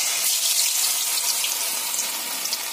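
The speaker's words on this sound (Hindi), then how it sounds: "फिश को मैं डीप फ्राई कर रही हूँ।" Fish deep-frying in hot oil in a kadhai gives a steady, bright hiss and crackle, a continuous close sizzle with no voices.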